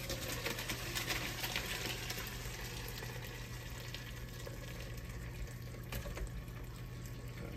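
Giblet gravy liquid pours into a pot with a steady, continuous trickling and splashing that stays even and moderately close throughout, with no voices.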